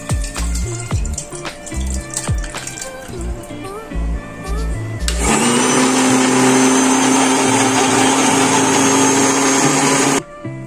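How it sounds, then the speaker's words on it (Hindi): A few knocks and clatters, then a mixer grinder blending curdled milk roars to life, whirring loudly and steadily for several seconds before shutting off abruptly. "इस मिक्सी जार में डालना है और उसको ग्राइंड करना"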